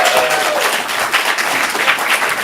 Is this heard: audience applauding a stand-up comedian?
yes